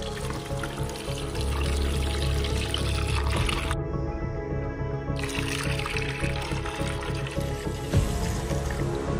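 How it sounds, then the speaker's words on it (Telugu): Milk from a cut packet is poured steadily into a container, a continuous close splashing and trickling stream that briefly pauses and resumes. "ఫస్ట్ ఈ పాలని ఇందులో వేసుకుందాము."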